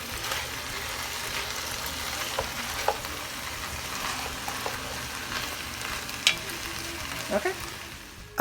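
Vegetables for a beef stew sauté in a pot with a steady, even sizzle, close and moderately loud, with occasional light taps and crackles near the end.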